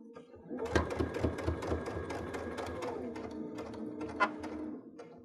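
A sewing machine stitches a strap on a summer picnic dress, running in a steady, close mechanical chatter for several seconds with a faint rhythmic tapping at the start.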